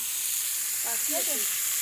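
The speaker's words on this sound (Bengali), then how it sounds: "ডালের বড়ি ভাজা" Lentil dumplings (dal bori) fry in hot oil at a picnic cookout, a loud, steady sizzling hiss with a few brief tonal squeaks or voice-like sounds partway through.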